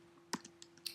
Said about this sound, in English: If I hold the Shift and press period, that's the greater than symbol on the keyboard.